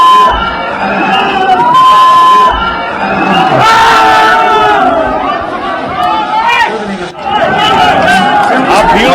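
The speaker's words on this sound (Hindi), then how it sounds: "आप भीड़ को देख रहे हैं, भीड़ ने बीजेपी का झंडा हटा दिया" A large crowd of rioters at a BJP office roars and shouts continuously, loud and close, with voices rising and falling throughout.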